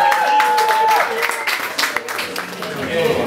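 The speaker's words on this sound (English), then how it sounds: "Can I have a big round of applause for Stephen Hemwood?" Audience applause and clapping from a crowd at a live gig in Lincoln, a fairly dense wash of hand claps lasting a few seconds, mixed with a sustained tone and some background noise.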